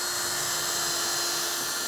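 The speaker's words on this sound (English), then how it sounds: "what better thing to do than drill?" A power drill whirs steadily at high speed inside an empty Lowe's hardware store, a continuous close, loud whine with a constant pitch running unbroken and alone.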